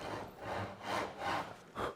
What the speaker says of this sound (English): I'm lightly sawing into the cherry.